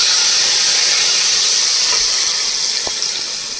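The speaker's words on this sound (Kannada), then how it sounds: "ಈಗ ದ್ರಾಕ್ಷಿ ಗೋಡಂಬಿನ ತುಪ್ಪದಲ್ಲೇ ಫ್ರೈ ಮಾಡ್ಕೊತಾ ಇದ್ದೀನಿ" Raisins and cashews frying in ghee for pumpkin payasam give a steady, close, even hiss of sizzling that runs the whole time, with no voices.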